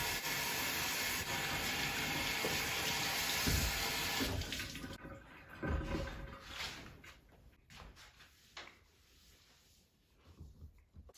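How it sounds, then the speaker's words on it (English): Squash and cucumbers washed under a running kitchen tap: a loud, steady rush of water for about four seconds, then quieter splashing and intermittent trickles as the vegetables are handled. "Specifically, I wash off my squash and my cucumbers."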